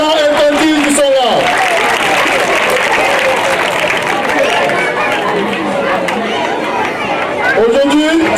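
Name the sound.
children's crowd applauding at Christmas party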